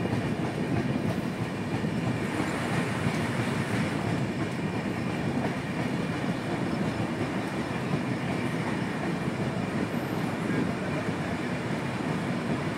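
Darjeeling Mail passenger train pulling into Bolpur Shantiniketan station at night, a loud, steady rumble of rolling wagons and clattering wheels on rails filling the whole stretch without letup, with no voices.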